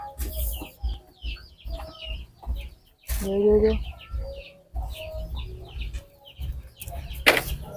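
Chickens cluck in a coop in short, scattered bursts, close by and fairly loud, while people talk intermittently over and between the calls.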